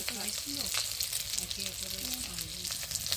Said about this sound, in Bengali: তেল দিয়ে দিলাম কড়াইতে আর এক পাশে মাছ ভাজা হোক